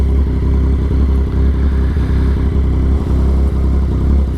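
A Yamaha XSR 900 motorcycle engine on a demo ride, a loud, steady low rumble heard close up with a constant throbbing drone and slight wind noise and no voices.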